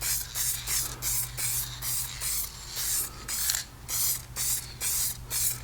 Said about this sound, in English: I'm just going to use some cheesy spray-on clear